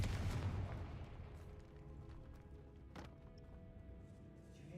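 A Confringo fire spell in Hogwarts Legacy bursts inside a tomb, a loud booming explosion at the start that rumbles and decays into a low roar, with a sharper crack near the third second.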